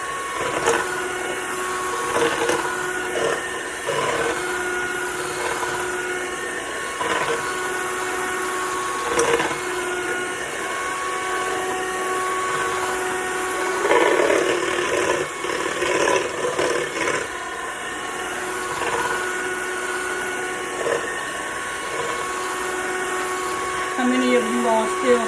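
An electric mixer whirs continuously as it whips cream toward homemade butter, a steady mid-pitched motor hum with slight fluctuations in load, while someone talks over it.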